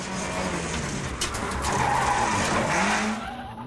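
A Ford Puma rally car skids through a handbrake turn, its tyres scrubbing and hissing loudly and close over the engine note for a few seconds.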